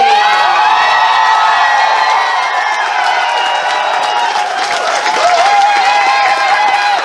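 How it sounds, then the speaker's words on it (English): A loud crowd at the FurSquared 2020 fursuit dance competition cheers, whoops and claps without pause, with shrill shouts riding over a dense wall of noise throughout. "Please give a huge applause for Charlie Husky."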